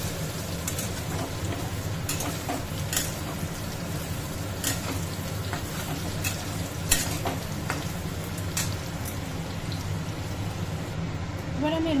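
Paneer frying in oil in a pan for a vegetarian paneer and pointed gourd dish, a steady close sizzle with small crackles and occasional clinks running throughout, while a voice talks over it.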